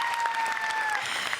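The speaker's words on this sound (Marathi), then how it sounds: "त्यामुळे जोरदार टाळ्या सगळ्याच कलाकारांसाठी." Audience applause for the performers on a Marathi TV comedy show, a dense, steady wash of clapping filling the short moment, fairly loud and continuous with no talk over it.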